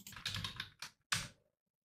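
Close, quiet keystrokes on a computer keyboard in two short bursts of rapid clicks, separated by a brief pause, then silence.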